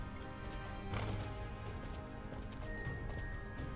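Horse hooves galloping in the Star Stable video game near a construction site, a quick rhythmic clatter of hoofbeats heard alone and fairly faint over a short stretch.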